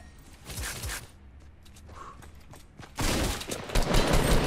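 Assault rifle fire in the Fortnite Battle Royale video game starts with soft shuffling and scattered clicks, then breaks into loud, rapid bursts of shots that run to the end.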